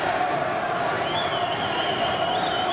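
Boxing crowd at a fight night cheering in a large arena, a steady dense roar of many voices held throughout at moderate level, distant and continuous.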